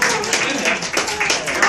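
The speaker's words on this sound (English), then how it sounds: "A big applause for Linda." A burst of clapping and applause from a crowd, steady and fairly loud, with voices mixed in throughout.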